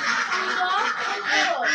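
Khaki Campbell ducks on a farm raise a dense, continuous chorus of quacking, loud and close, with no clear breaks.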